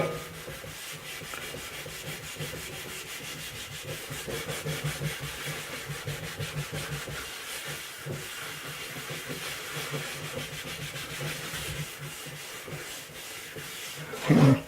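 A stainless steel frying pan is scrubbed continuously, giving a steady, close, rasping rub that carries on without pause, with a short louder knock right at the end.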